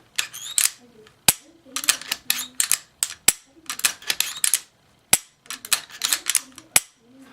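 Sharp, close metallic clicks from an FNS-9 Longslide pistol's striker trigger being pulled and reset, arriving in quick irregular clusters with short pauses, loud against an otherwise quiet background.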